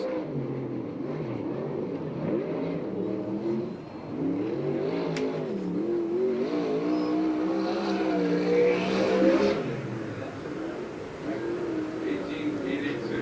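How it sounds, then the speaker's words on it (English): USAC/CRA sprint cars race on a dirt track at Perris, California, with engines revving and droning steadily at middle distance while an announcer talks over them. "One of the cars we're running for Rookie of the Year on the racetrack right now, the number 34 out of Victorville, Kenny Per"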